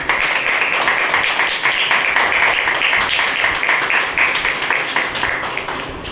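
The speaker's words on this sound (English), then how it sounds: "Let's have a huge round of applause." An audience at a Toastmasters-style club meeting applauds, a continuous dense patter of many hands at moderate level that stays even throughout and tails off slightly at the end.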